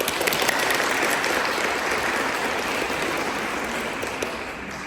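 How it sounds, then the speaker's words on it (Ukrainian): Audience at the opening of a music festival, applauding after a tango performance: a steady, dense wash of clapping from a large crowd, loud and continuous from start to finish. "Ваші оплески!"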